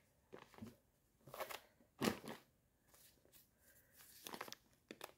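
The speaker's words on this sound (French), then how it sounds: "Attendez, on va essayer de le déballer." Up close and quiet, plastic packaging around a bath towel crinkles and tears in several separate bursts with short pauses between them.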